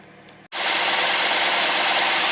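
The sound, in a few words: Toyota Camry engine idling smoothly after ignition coil repair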